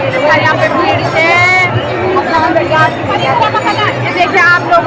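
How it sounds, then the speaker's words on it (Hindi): A dense crowd of worshippers chatters at a Vrindavan temple, with many overlapping voices forming a continuous, loud, close-up babble and no single voice standing out for long. "यहाँ पे भीड़ है"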